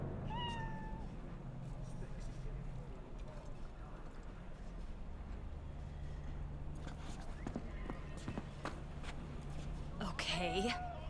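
Hairless cat in Cyberpunk 2077 meows in short, thin cries near the start and again toward the end, under game ambience and people talking.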